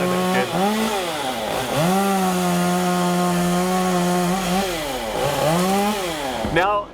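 Chainsaw cutting into a tree during a large, dangerous tree removal: a loud, steady engine whine with dips and rises in pitch as the chain bites into wood, close and continuous throughout.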